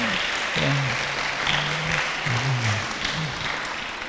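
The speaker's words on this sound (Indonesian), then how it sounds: "Tepuk tangan adik-adik ya." Schoolchildren applaud together at a school event in Malang, Indonesia, a steady broadband patter of clapping running the full length, with a few voices calling out over it.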